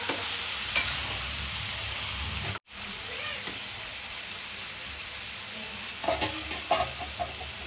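Chicken liver kaleja, marinated with salt, chili powder, ginger-garlic paste and oil, is stirred and fried in a pan. There is a steady close sizzle, a brief cut near the middle, and a few scraping stirs toward the end.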